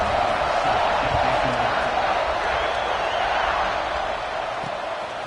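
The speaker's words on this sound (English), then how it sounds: "this crowd is buzzing after that last score" A football stadium crowd at a Nebraska versus Ohio State game buzzes after a score, a dense, steady roar of many voices that fades slightly toward the end.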